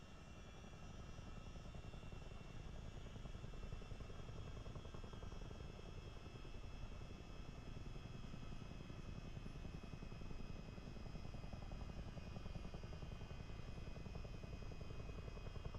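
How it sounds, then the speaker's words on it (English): CH-47D tandem-rotor helicopter flying in Microsoft Flight Simulator over Krakow, a loud continuous rapid rotor chop layered over steady engine whine, constant and close with no talk. "I'm not really good at flying helicopters."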